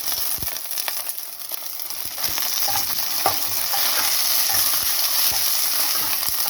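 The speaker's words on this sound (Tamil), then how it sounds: "இது நல்லா வறுக்கணும், வாசனை வரணும்." Masala sizzles and crackles in a hot pan with spring onion and mint while being stirred, a steady close frying hiss with occasional scraping clicks, no voices.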